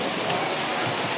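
Matanira Falls, a waterfall, gives a steady, loud broadband rush of falling water that continues unbroken through the short moment with no other sounds.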